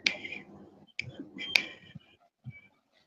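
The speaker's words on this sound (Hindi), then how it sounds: "चुटकी बजा" Crisp finger snaps at a Hindi poetry gathering, several sharp, close clicks in an uneven rhythm across about three seconds, with faint vocal sounds between them.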